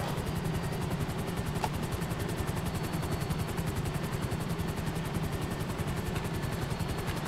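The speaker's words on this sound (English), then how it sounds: "If I run outside, get my broken helicopter" A helicopter in Grand Theft Auto V keeps up a steady, fast rotor chop over a constant engine roar, loud and unbroken throughout, with no voices.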